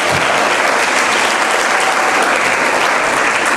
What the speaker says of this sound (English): I would like Alleyne School to give her, in her absence, a big applause